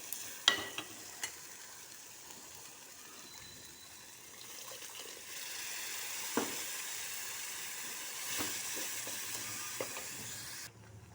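Garlic and freshly ground masala stirred and sizzling in a pan while making snake gourd kootu: a steady frying hiss with soft scraping strokes and a few sharp clinks near the start, close and fairly quiet.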